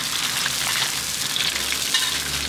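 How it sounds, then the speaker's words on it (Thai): Beetles deep-frying in hot oil for a second round, a steady close crackling hiss with fine popping throughout, no voices. "รอบอันนี้ทอดรอบสองนะ"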